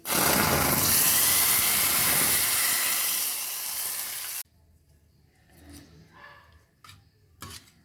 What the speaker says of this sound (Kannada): ಈಗ ಇದಕ್ಕೊಂದು ಒಳ್ಳೆ ಒಗ್ಗರಣೆ ಹಾಕಿದರೆ ಆಲೂ ಸಾರು ರೆಡಿ.